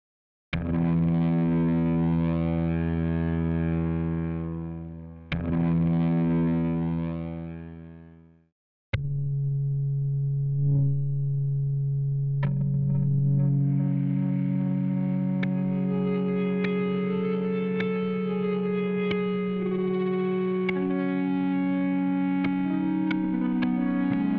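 A synth sound runs through the GAZE plugin, whose envelope follower drives a filter. Held tones swell and decay, then a brighter, busier patch of shifting, sweeping tones plays on, loud and close, with no voices.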